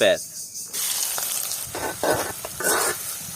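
Chopped onions frying in soybean oil in a wok for chicken haleem, a loud sizzle broken by scraping stirs and bursts of crackling as the spatula moves through.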